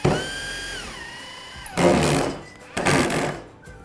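A power drill drives a high-thread screw through a timber joist during drywall ceiling work. A sustained whining motor pitch shifts, then two loud, gritty bursts of drilling follow with brief pauses between them.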